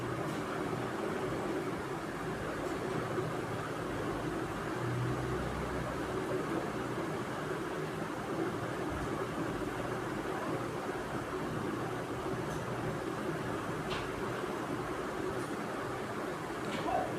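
Wheat-flour onion samosas fry in hot oil over a medium flame, giving a steady, even hiss and sizzle that runs throughout with a few faint clicks on top.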